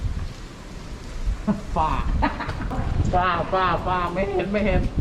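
Steady rain falling across a golf course, a dense continuous hiss close by, with people talking over it.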